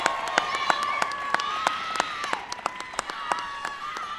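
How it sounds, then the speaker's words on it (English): A White House crowd welcomes Vice President Biden with cheering and whoops, sharp regular claps standing out over a broad wash of crowd noise. "Please give him a big round of applause."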